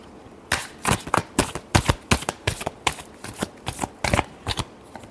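A deck of tarot cards is shuffled close up in a quick series of crisp riffling flutters and snaps, about a dozen bursts in a row with short gaps between them.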